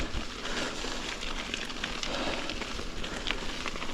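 Rain falls on the Ridgeline Trails in Eugene, Oregon, a soft patter with scattered drip ticks over a low steady background, faint and with no voices.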